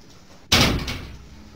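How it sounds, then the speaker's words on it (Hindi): A door bangs once with a loud close thud inside a house, followed by a short rattling echo that trails off over about a second against a faint background hum. "फालतू में दरवाजा टकटका रहा है"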